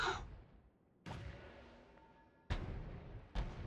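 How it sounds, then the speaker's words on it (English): Lava explosions from a wand in the video game Noita go off in three sharp booming bursts, each dropping into a rumbling tail, with a brief hiss before the first. "When the lava explosion goes off, then you have more."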